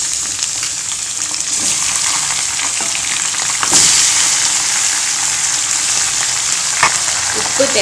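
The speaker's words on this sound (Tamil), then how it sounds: "அதுல சிக்கன் சேர்த்துலாம்" Chicken added to browned onions sizzling in a pan for chicken gravy, a loud steady frying hiss up close, with a few stirring scrapes and a brief swell as pieces go in.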